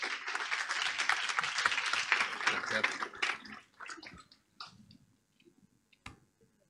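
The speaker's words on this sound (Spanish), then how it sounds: "les pido un fuerte aplauso para los speakers" Audience at a tech talk applauding the speakers, dense clapping for about three seconds that thins out into a few scattered claps and fades, with a brief voice and small noises near the end.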